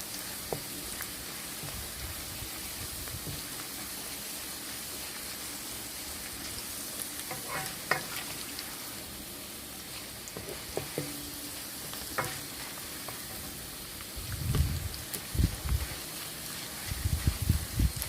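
Banana blossom deep-frying in hot oil while being stirred, a continuous soft sizzle with occasional scrapes and clinks of the utensil, louder stirring bumps near the end.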